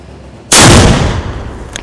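A single loud, close blast from a traditional village cannon bursts out after a brief quiet, followed by a long booming rumble that slowly fades.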